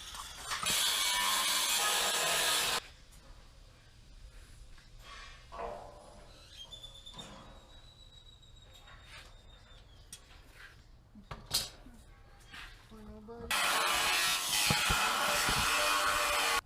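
A Sawzall reciprocating saw bites into the steel frame of a C10 truck in two loud, harsh bursts, with quieter clanks and mechanical rattles between them.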